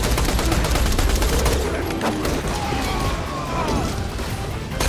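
Video game firefight with a grenade blast and rapid gunfire: a dense, loud barrage of overlapping shots and booms that fills the first half, then thins into a steadier rumble of fire.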